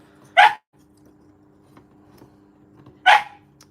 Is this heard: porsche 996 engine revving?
no